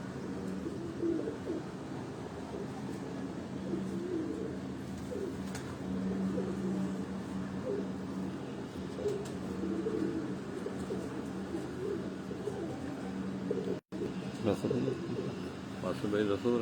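Pigeons coo softly and repeatedly from a rooftop loft in Rawat, a low, steady murmur of calls continuing throughout under a voice speaking over them.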